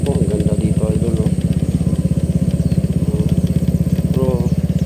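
A motorcycle engine runs steadily on a mountain road near San Jose, T'boli, South Cotabato, a close, rapid pulsing thrum throughout, with someone talking over it at intervals.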